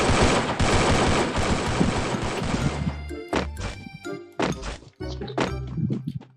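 A new gun firing in the Free Fire video game, a dense rapid burst of automatic fire for about three seconds, followed by separate sharp shots and thumps with short gaps between them.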